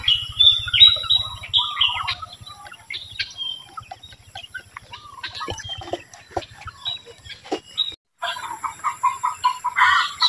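Chickens being raised in a simple backyard coop cluck and chirp close by in steady, busy bursts, with a louder clucking run near the end and a brief pause in between.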